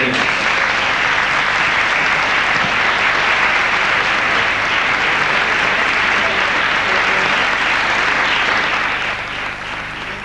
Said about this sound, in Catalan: Un aplaudiment a tots.